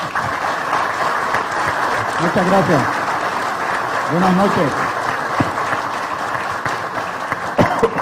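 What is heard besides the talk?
seminar audience applause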